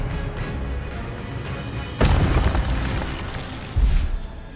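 An Expelliarmus spell is cast in Hogwarts Legacy: two sharp, booming bursts land about two seconds apart, the first sudden and strong, each fading into rumble over a steady bed of game ambience.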